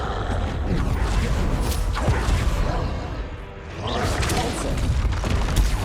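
Booming blasts from the Confringo fire spell in the Hogwarts Legacy video game: loud, broadband bursts and crashes over several seconds, with a brief lull in the middle, and no voices.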